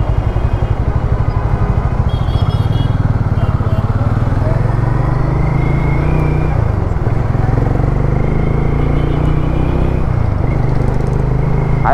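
A cruiser motorcycle on a test ride gives a loud, steady engine drone close by, rising in pitch as it accelerates and with several shifts in tone, while someone talks over the engine noise.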